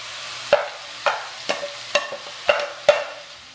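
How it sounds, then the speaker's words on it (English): A utensil stirs mushrooms and melting Boursin cheese in a pan, making six evenly spaced scraping strokes over a faint sizzle, close up with no talking. "Give it a little stir. The Boursin will start to melt."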